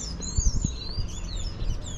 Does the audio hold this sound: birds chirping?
yes